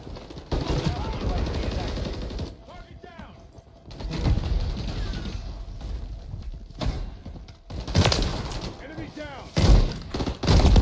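Gunfire in Call of Duty MW3 multiplayer, bursts of shots and thuds scattered through the stretch, loud and close, mixed with game noise and a player's voice talking over it.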